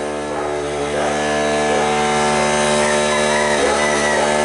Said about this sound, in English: He's confused about this compressor sitting here running